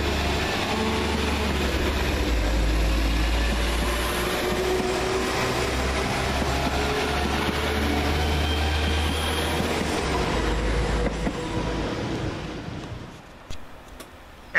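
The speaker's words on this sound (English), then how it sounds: "we see the return of the railhead treatment train now, as DR98919 and 98969 head back towards King's Norton" Railhead treatment train DR98919 with 98969 rolls through Stourbridge Junction station, a loud sustained low engine drone and steady wheel rumble that carries for about twelve seconds, then fades away.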